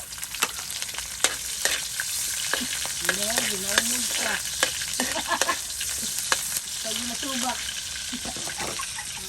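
Onions and garlic hiss and crackle steadily in a frying pan for a Filipino boodle-fight meal, with sharp utensil clicks scattered through and a voice talking intermittently over the sizzle.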